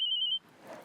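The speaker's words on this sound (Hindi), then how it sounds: "फोन आया, फोन आ रहा है मेरा।" A phone rings with a short electronic trill, a steady bright tone lasting under half a second before cutting off to quiet room noise, with no one speaking.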